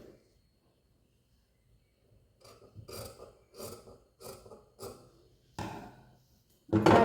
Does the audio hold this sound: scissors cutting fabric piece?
yes